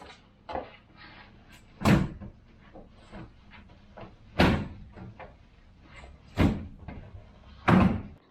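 The cap door on a 2022 Ford Maverick fitted with a soft roll-up tonneau cover shuts with sharp, close thuds, four distinct slams spaced a couple of seconds apart with lighter rattles and clicks between them.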